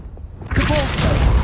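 Confringo spell cast in Hogwarts Legacy, a sudden loud blast that erupts after a quiet moment into a rumbling, crackling burst that carries on to the end.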